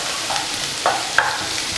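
Onions and green chillies sauté in a pan for kothu chapathi, a soft steady sizzle broken by a couple of quick spatula scrapes and clicks, close and without talk.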